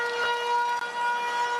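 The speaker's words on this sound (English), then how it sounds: "And there's the siren" A rugby match half-time siren between Fiji and Scotland blares as a single sustained, loud tonal wail, steady throughout with one brief dip.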